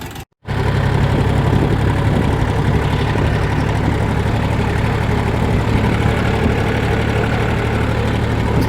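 Chinese mini tractor running on a cold start while fitted with a Bomet inter-row cultivator for hilling potatoes: a steady, loud diesel idle with knocking rumble, close and continuous after a brief cut at the start.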